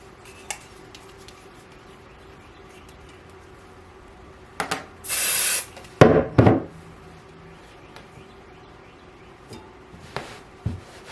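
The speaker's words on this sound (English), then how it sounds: "I'm going to use my bonding spray, temporary bonding spray" Temporary bonding spray hisses onto two sheets of no-show poly mesh embroidery stabilizer in short bursts, one about a second long and a couple of quicker puffs, with faint handling taps around them.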